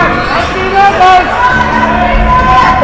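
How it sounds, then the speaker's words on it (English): Parents cheer and shout from the stands at a youth ice hockey game, a loud mix of voices and crowd noise under close play-by-play commentary. "You can hear parents. Empty net. They're cheering them on."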